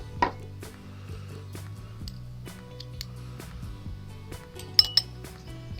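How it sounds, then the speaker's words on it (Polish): A heaped teaspoon of honey goes into a small bowl, with soft clinks of spoon against dish and a brief sharper tap at the start and near the end, over a quiet low background with no speech. "Do miseczki dodaję łyżeczkę miodu."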